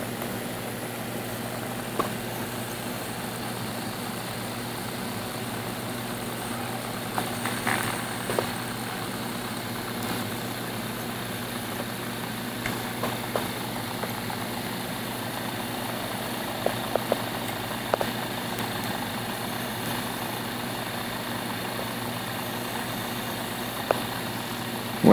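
A Bedini motor with a Hall IC sensor spinning, a steady continuous hum with a low drone and faint whir, punctuated by sparse small ticks throughout.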